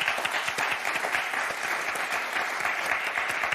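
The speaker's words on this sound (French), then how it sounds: "Alors on va vous applaudir très, très fort" A game show studio audience bursts into steady, dense applause, many hands clapping loudly and continuously throughout with no pause.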